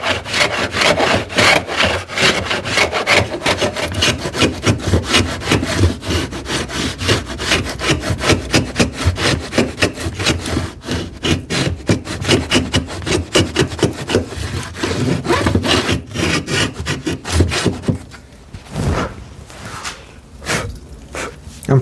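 A freshly sharpened hand plane takes small passes on wood while building a TV unit, giving a long run of rapid rasping strokes, close and loud, before tapering into a few sparse scrapes.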